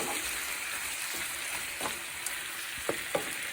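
Beef seasoned with cumin browns in a pot, giving a steady close sizzle with a few soft stirring scrapes and small knocks near the end.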